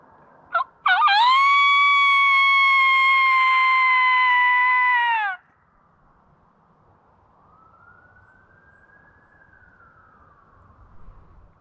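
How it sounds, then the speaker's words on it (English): An emergency vehicle siren wails faintly in the distance, rising and falling once across rural spring woods, after a loud, sustained, tonal call nearby stops abruptly and leaves near silence. "Here comes another siren."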